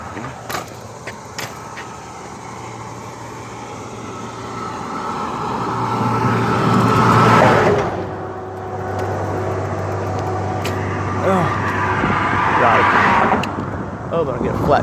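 Cars passing on a roadway beside a guardrail, heard from the roadside, engine and tire noise swelling loudly as vehicles go by close, then easing off, with a low steady hum throughout and a few clinks nearby.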